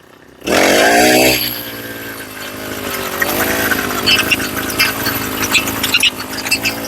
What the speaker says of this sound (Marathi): आता मशीन आपण लाईव्ह चालवून बघणार आहे कसं चालतंय मशीन